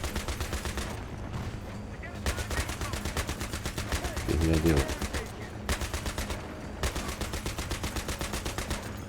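Rapid bursts of automatic gunfire in Battlefield 3, long rattling volleys with short gaps, and a brief spoken remark mixed in.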